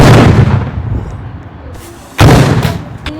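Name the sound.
rocket launcher firing in Roblox video game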